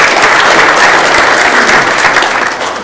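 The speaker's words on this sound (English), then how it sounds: "Go ahead and give him a round of applause." A city council meeting audience gives loud, dense applause, a steady wash of many hands clapping close up for nearly three seconds before it begins to fade.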